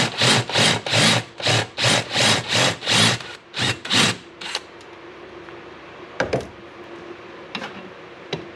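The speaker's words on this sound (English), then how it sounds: "drill this off" A power drill drills out a rivet in a rapid series of about ten short bursts, loud and close, then stops, followed by quieter shop rustling and a couple of sharp knocks.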